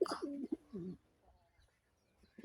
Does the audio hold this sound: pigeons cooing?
yes